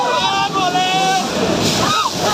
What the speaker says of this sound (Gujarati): મિત્રો જોઈ લો કેવા મોજા ઉતરે.